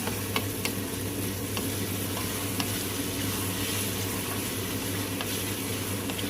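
Tomatoes sauté in oil in a pan for a garlic tamarind curry, a steady, fairly quiet sizzle and bubbling with faint occasional pops, continuous and alone.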